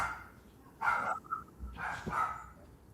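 A small half-Chihuahua dog barks a few times nearby, sharp yaps spaced apart against a quiet room.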